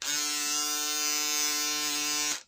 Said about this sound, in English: the Andis foil shaver really works